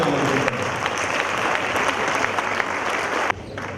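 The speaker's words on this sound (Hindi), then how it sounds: "तालियों से मनोज भाई का स्वागत करते हुए आमंत्रित करें" An audience at a talk welcoming lyricist Manoj Muntashir with sustained applause, a dense, loud wash of clapping hands that carries steadily before dropping off abruptly near the end.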